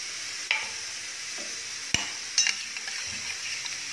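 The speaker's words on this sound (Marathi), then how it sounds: "आता मी ते ताकामध्ये मिक्स करते" Ground paste being stirred into buttermilk, soft liquid swishing with a few light clinks of a spoon against the bowl, close and fairly quiet.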